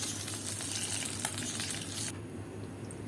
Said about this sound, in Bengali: এবার সে একই তেলে আমি আমার যে বয়েল ডিমগুলো ছিল সেগুলোকেও ভেজে নিচ্ছি।